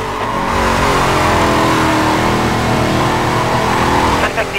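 A Ford Mustang Boss 429 engine roars loud and close in a Need for Speed Carbon race, holding a steady high-revving drone throughout, with a brief dip and stutter at the very end.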